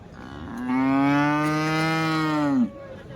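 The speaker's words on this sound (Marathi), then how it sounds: "हा बघा मित्रांनो गाईंचा पट्टा बघा" A single long, loud moo from a cow at a Chalisgaon cattle market selling HF and Jersey cows, close by and sustained for about two seconds, with no talk over it.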